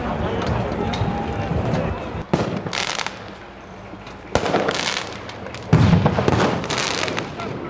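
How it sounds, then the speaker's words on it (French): Firework mortar shots at a protest clash, three sharp blasts spaced a couple of seconds apart, each with a crackling tail, over crowd noise and voices. "On a des tirs de mortier"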